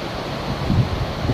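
A flood-swollen river in Kullu runs beside a washed-out stretch of highway toward Manali, heard as a continuous low, rumbling roar of rushing water with gusty wind noise on the microphone and no voices.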